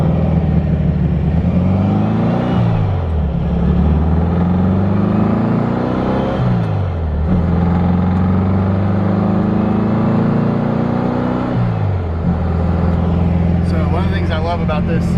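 A 1964 VW Beetle fitted with a high-performance 1776 engine drives along, its air-cooled engine droning loud and steady as revs rise and fall through several gear changes, with talk audible over it.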